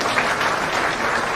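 An audience at a political party's press event in India applauds, a dense, continuous burst of clapping from many hands, loud and close throughout.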